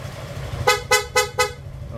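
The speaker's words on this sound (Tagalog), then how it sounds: "PIA horn, dual horn setup" A PIA dual horn fitted to a Suzuki Gixxer 155 motorcycle gives four short, evenly spaced bright toots up close, over a faint background hum.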